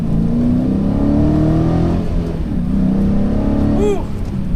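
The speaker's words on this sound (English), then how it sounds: "One last acceleration." A 2018 Dodge Challenger T/A 392 accelerates hard, its loud V8 roaring and climbing in pitch through gear shifts, heard steadily from inside the car.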